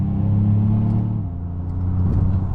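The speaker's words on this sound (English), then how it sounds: "will pop it into the Lobo mode just for a second to get a quick acceleration so you guys can see how aggressive this is in Lobo mode" A 2025 Ford Maverick Lobo pickup accelerating hard, heard from inside as a loud low engine drone whose pitch drops sharply midway at an upshift before climbing again.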